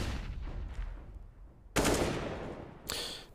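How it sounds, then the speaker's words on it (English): Two sharp, loud rifle shots ring out about a second apart on the Dust2 map in CS:GO during a professional match, each with a short echoing tail, following a quieter stretch of fading noise. "Paz fires off his first shot"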